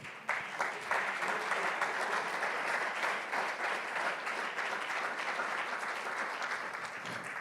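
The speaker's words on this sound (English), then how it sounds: "Can we now just give one big round of applause to all our panelists?" Audience applause for the panelists at an opening plenary session of a 2021 policy forum, steady dense clapping from a large crowd heard fairly quietly and sustained evenly throughout.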